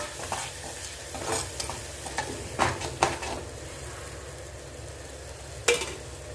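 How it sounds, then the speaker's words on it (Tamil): Masala sizzles and fries steadily in a hot pan while a spoon scrapes and stirs, with occasional louder clanks against the metal. "ரெண்டுமே நல்லா சேர்ந்து வதங்கி வரதுக்கு வச்சோம்"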